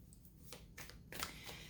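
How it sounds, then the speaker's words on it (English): A steampunk tarot card deck is shuffled by hand, giving several crisp riffling bursts in quick succession, close and clear with no talking. "Let's go ahead and shuffle it up."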